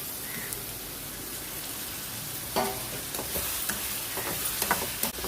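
Tomatoes tipped into a pan of softened, salted onions frying in oil, a soft continuous sizzle broken by a few brief clatters and stirring scrapes, with faint music in the background.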